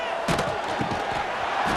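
Stadium crowd in the video game EA Sports College Football 26, a steady broad roar that swells in short surges and never drops to silence.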